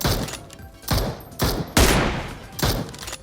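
Video game gunfire comes in loud, close bursts of rapid shots, four or five volleys spaced under a second apart with short gaps between them.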